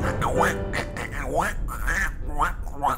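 A human voice imitates a duck's quack in a Donald Duck style, several nasal, buzzy quacks in a row mixed with talking, close and fairly loud.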